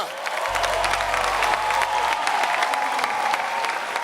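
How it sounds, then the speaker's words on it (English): A studio audience at a televised talent show applauds and cheers after a comedy act, steady crisp clapping with crowd whoops mixed in, fairly loud and sustained with a low hum underneath for a moment. "Can I get some applause for the laugh doctor?"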